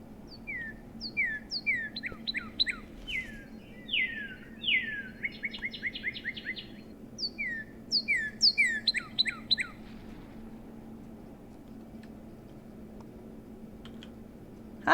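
Goldfinch song in the game Birds Watching: bright twittering phrases of rapid chirps and trills in bursts, clear and close over a faint low hum, ending in near silence.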